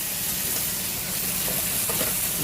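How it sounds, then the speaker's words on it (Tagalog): Fried pompano drops into a pan of hot spiced oil, setting off a loud, steady, close-up sizzle with no voices. "lagay na natin yung pritong pampano"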